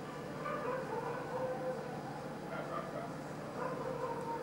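A moving train passing at a distance, a steady rumbling wash of rail noise with rising and falling swells and some high squeal, continuous throughout with no talking.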